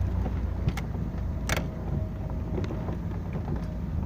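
A 1949 Daimler Barker DB18 Special Sports 2.5-litre drophead coupe on the move, a steady low engine and road rumble mixed with wind buffeting across the microphone, with a couple of faint clicks and no talk.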